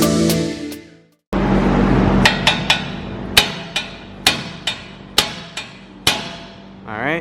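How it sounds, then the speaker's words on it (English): Sharp metallic hammer blows strike a steering knuckle on a Toyota Tacoma to free the upper control arm, about a dozen ringing hits spaced unevenly, loud and close after a brief burst of mechanical noise. "he smacked it on this side on the knuckle, and that actually releases tension"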